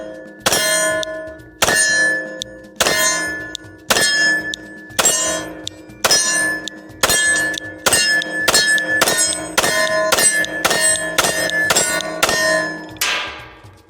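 Shots from a Glock 45 pistol hit steel targets in a rapid string of about sixteen loud, sharp metallic clangs, each ringing briefly before the next, speeding up toward the end.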